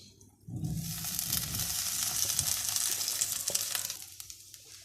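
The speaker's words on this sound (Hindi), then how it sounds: "तो हम वापस इसमें वो फ्राई की हुई भिंडी डाल देंगे" Fried okra dropped back into a pan of dry masala sizzles and fries with a steady, loud hiss that begins abruptly, swells, then fades, along with a few small stirring knocks and no talk.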